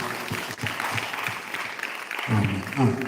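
A church congregation claps in praise of God after a kidney-healing testimony, giving steady close applause for about three seconds, with a few voices rising briefly near the end.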